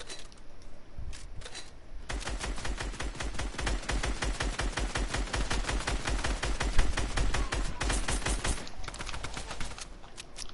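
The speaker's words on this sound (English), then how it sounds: "Is that a drum gun?" Rapid automatic fire from a drum gun in a video game, a long run of evenly spaced, loud shots lasting around seven seconds, preceded by a few scattered shots and ending with brief final bursts, without any talking.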